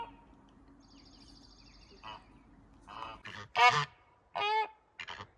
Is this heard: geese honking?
yes